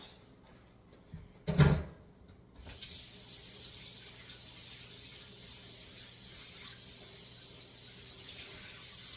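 Hands washed under a kitchen faucet while cooking fried chicken sandwiches: a short clunk of something set aside, then a steady close hiss of running tap water that keeps going.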